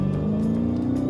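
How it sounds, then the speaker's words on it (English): A Dodge Challenger Hellcat, a large 4,100-pound muscle car, snarls with a loud, steady engine drone that holds a rough, throaty idle-to-rev tone throughout, close and unbroken, with no voices. "It's a loud, angry, gas-guzzling monster that snorts and snarls like a stuck pig."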